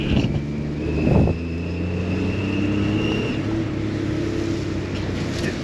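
A cheap old car engine drones steadily and close by, its hum rising slightly in pitch, with a brief louder burst near the start, as the car sets off around the block.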